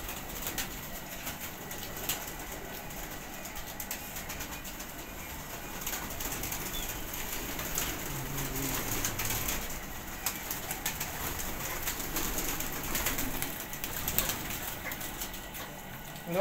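Breeder female pigeons coo in soft, low repeated calls amid a loft's background noise, with occasional wing flutters and no speech.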